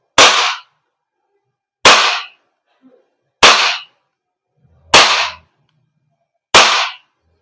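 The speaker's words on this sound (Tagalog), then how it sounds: "7 rounds sa BB. Test fire ko lang." KJWORKS KP-19S airsoft pistol firing BB rounds at close range: five sharp, loud cracks spaced evenly about a second and a half apart, each ending quickly, with near silence between shots.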